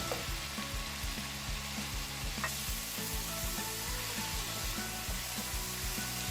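Fried fish going into a sizzling coriander masala in a pan: a steady, close hiss of hot oil with repeated scraping stir strokes throughout, and no talking.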